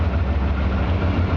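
A Leopard C2 tank engine idles at an outdoor tank show, producing a steady, loud, deep rumbling drone with constant low vibration and no pauses.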